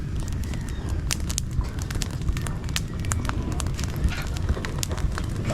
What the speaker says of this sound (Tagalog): Lakas na apoy, ah.